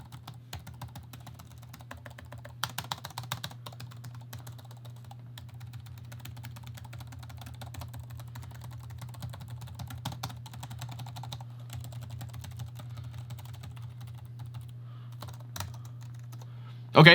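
Quiet, steady tapping on the chiclet-style keyboard of a Gateway ultra slim laptop, with a low constant hum underneath and no voices.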